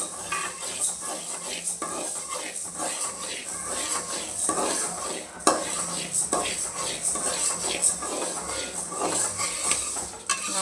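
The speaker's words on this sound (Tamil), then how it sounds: "கொள்ளு வறுத்துட்ருக்கேன்" Horse gram roasting in a pan, a continuous dry rustle and faint sizzle with frequent spoon scrapes and light metallic clinks, close and steady.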